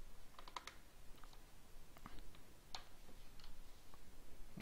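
A computer keyboard knocking and clicking as it wobbles on a table, giving scattered light taps and ticks at an irregular pace, close by and soft, with no talking.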